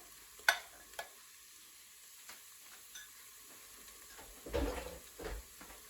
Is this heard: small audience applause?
no